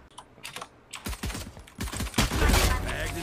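Gunfire in the video game Valorant: a series of sharp, rapid shots in quick bursts, loud and close, mixed with keyboard clatter and busy game sound effects.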